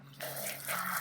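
Water running from a small outdoor dock shower at a marina in British Columbia, a steady splashing, dripping stream that swells after a brief quieter start and stays close and fairly loud, with no talking.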